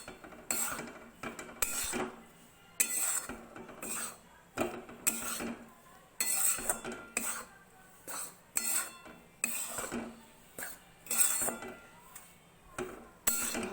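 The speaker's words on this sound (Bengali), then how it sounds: "ভালো করে মিশিয়ে নিলাম।" A spoon stirring chopped almonds, cashews and raisins into a laddu mixture, with rhythmic scraping and clinking against the pot and pauses between strokes.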